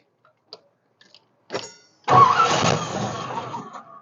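A 1981 Corvette with a freshly rebuilt carburetor being cranked: a few faint clicks, a brief starter grind, then the engine catches and runs with a loud, rough steady roar, no talking.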